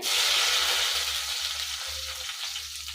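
Fresh mint leaves dropped into hot oil in a pan while cooking soya and spinach rice, giving a loud, steady sizzle and crackle that stays close and unbroken, with no talking.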